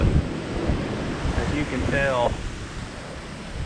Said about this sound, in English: it is plenty windy